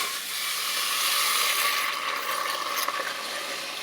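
Bone broth poured into a hot pan with rib eye steak gives off a steady, bright sizzle and hiss that swells slightly and crackles, close up with no talking.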